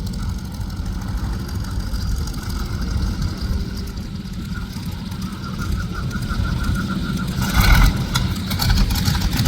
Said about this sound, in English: We're firing up those engines, folks.